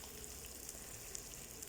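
Sliced bitter gourd frying in hot oil gives a quiet, steady sizzle with small crackles throughout and no voices.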